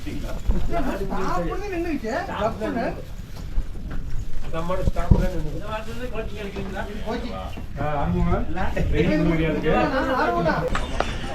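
Two bulls climbing the stone temple steps at Chennimalai Subramanya Swamy temple in Tamil Nadu, hooves clopping in an irregular walking rhythm close by, under steady chatter from people talking.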